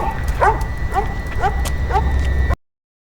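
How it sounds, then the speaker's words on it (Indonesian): A neighbour's dog barks in a steady run of four or five sharp yaps, close and loud, over a thick low rumble. "para orang dewasa memperhatikan anjing tetangga menggonggong semakin keras sambil berlari menjauh dari arah gunung"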